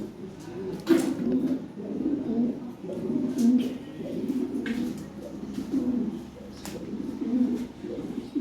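Lahori pigeons coo continuously in low, throaty rolling calls, several birds overlapping, with occasional sharp clicks and faint voices in the background, where pigeons are being sold in Bangladesh.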